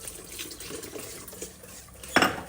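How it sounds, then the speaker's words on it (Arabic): Tap water running from a faucet into a bowl of semolina dough mixture in a home kitchen, a short splashing pour that rises sharply near the end against faint background kitchen noise. "تزيد الماء من السبالة، صب الملاء، صب لين تولي جارية"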